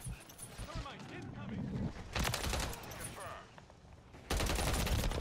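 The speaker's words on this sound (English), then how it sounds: "I was shooting him in the head the whole time." Rapid gunfire bursts from a Call of Duty match on the Shipment map, loud and dense in clusters, with sustained automatic fire near the end and a voice talking over it.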